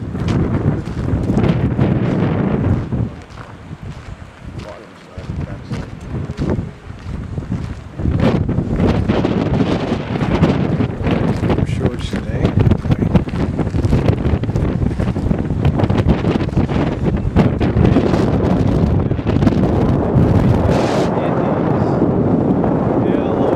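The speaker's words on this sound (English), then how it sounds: "Friggin' windy up here." Strong, gusting wind roars across a microphone on a stormy Pacific coastline, buffeting loudly and continuously with a brief lull early on, while people occasionally talk beneath the noise.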